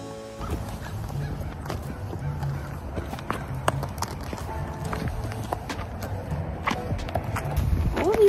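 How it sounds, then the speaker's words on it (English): Horse hooves clip-clop steadily on hard ground at a barn, close by, with a background murmur and scattered clatter, the steps continuing throughout. "You guys heard the horse."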